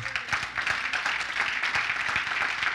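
A church congregation claps steadily throughout, a dense field of many hands at moderate volume, with a faint voice underneath.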